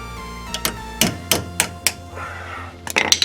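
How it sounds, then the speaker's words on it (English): Hammer blows striking locking pliers gripped on a front-suspension ball joint stud during ball joint replacement; about six sharp metallic thunks at irregular intervals, close and fairly loud, with a quick clattering burst at the end. "hit the pliers with a hammer"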